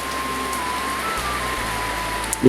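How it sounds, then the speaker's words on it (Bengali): Steady rain falls as an even hiss, continuous and moderately close, with a brief soft knock near the end. "সুন্দর বৃষ্টি হচ্ছে এখন"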